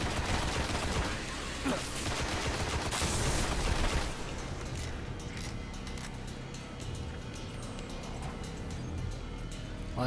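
Rapid gunfire in the video game Destiny, a dense burst of shots for the first few seconds followed by sparser sharp cracks over a constant background hum.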